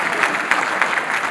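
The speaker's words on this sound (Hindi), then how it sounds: "तालियां बजा सकते हो, जैसा टैक्स भी लगा नहीं," An audience at a Holi humorous poetry gathering breaks into brief, steady applause, a dense wash of clapping from many hands.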